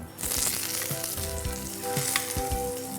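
Cod fillet searing in very hot butter in a pan gives a loud, steady sizzle throughout, with a few soft clinks and bumps of the pan underneath and no voices.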